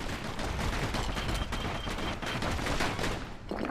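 Dual slinger pistols firing in Bastion: a dense, rapid string of loud gunshots rattles on without a break, close and continuous for several seconds.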